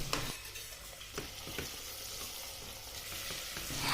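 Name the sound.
onions sautéing in ghee with cumin seeds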